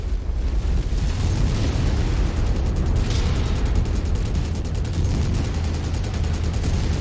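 Missile explosion in a mech combat video game, a sustained roaring blast with crackling bursts that fills the whole stretch at steady loudness, no voices over it.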